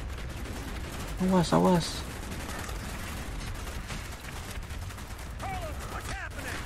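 Rapid gunfire in the video game Call of Duty Black Ops, a dense crackling stream of shots running throughout, with a player shouting briefly over it and a voice talking near the end.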